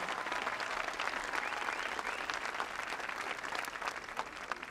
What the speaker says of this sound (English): Give him a round of applause right over here.